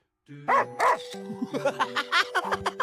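Dogs barking in quick bursts, a few sharp yaps followed by a rapid run of shorter yips, close and loud.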